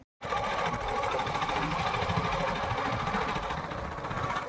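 A motorcycle engine runs while being ridden, a steady, fast-pulsing mechanical drone that holds level and close for the whole stretch after a brief silent start.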